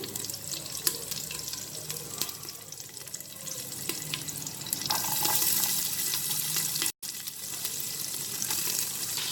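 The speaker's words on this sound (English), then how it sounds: "I'm going to next add in my green chillies. You can hear them splatter." Steady crackling sizzle of green chillies frying in hot oil, dense and continuous with sputtering bursts, close by, with a brief dropout near the end.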